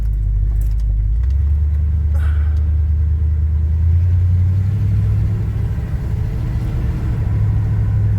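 Cold-running engine of a Chevy C10 pickup truck rumbling steadily up close, a low droning idle with slight shifts in pitch and no talk over it.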